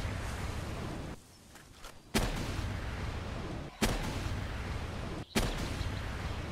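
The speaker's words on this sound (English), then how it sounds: "a rocket launcher nonetheless, not the Pengullet launcher" In a video game, a rocket launcher fires three loud, sharp blasts at roughly even intervals, each with a booming tail, over steady background game noise.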